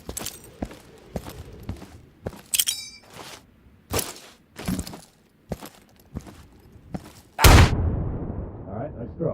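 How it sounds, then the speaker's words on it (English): A fragmentation grenade goes off in the video game Insurgency: several sharp, scattered cracks lead up to one loud, close, booming blast that rolls off into a fading rumble. No one talks. "Yeah, throw a frag in there."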